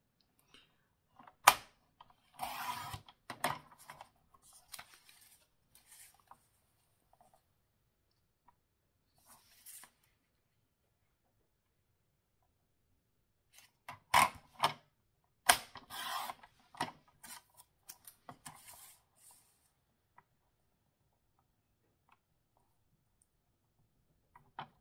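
Cutting out a window in a handmade frame-style greeting card, heard as two bursts of close, crisp clicking snips, one early and one midway, separated by near silence.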